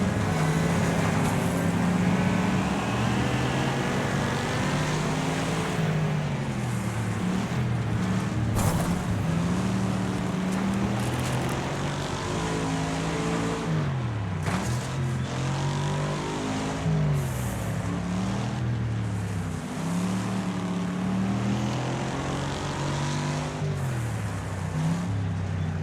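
A Ford Falcon GT from Australia runs in a racing video game, its engine droning steadily and near, pitch rising and falling through repeated gear changes and revs for the whole stretch.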